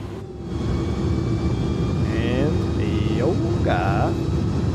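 Twin jet engines of an iniBuilds Airbus A300 in a flight simulator roar steadily at takeoff thrust, a broad, loud rumble with a faint whine, while a voice speaks briefly over it.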